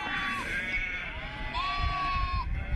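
Sheep and lambs approach, bleating in a few drawn-out calls, one short and then a longer pair, moderately near over a faint outdoor background.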